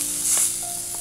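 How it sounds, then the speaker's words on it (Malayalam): Coriander powder and garam masala roast in a hot pan, giving off a brief, steady close hiss with faint soft crackles. "ഈ പൊടി ഒന്ന് മൂപ്പിച്ചെടുക്കണം."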